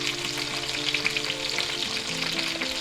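Thick boneless pork chops sizzle and spit in a hot cast iron skillet, a dense, steady crackle of frying with no voices.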